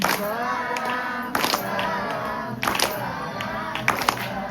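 Listeners at a devotional kirtan bhajan clap their hands in time with the chanting, sharp rhythmic claps mixed into singing voices with louder bursts of clapping every second or so.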